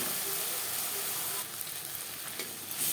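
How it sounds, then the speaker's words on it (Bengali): Ground spices with salt and turmeric fry in oil alongside onion and tomato for a Katla fish curry, a steady close sizzle broken by occasional scraping stirs of the spoon. "পেঁয়াজ টমেটোর সাথে মশলা ও লবণ হলুদ বেশ ভালো করে মিক্স করে দেবো কাঁচা গন্ধ যাওয়া পর্যন্ত নাড়াচাড়া করে দেবো"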